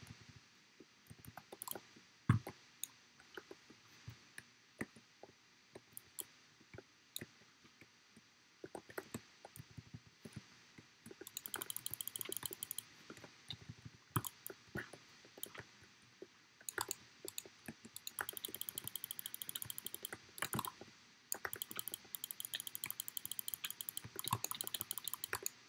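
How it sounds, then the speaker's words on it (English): Computer keyboard and mouse clicks sound during gaming, quiet and close, as scattered taps that quicken into dense bursts of rapid clicking in the latter half. "you can hear, like, my keyboard and mouse and all that."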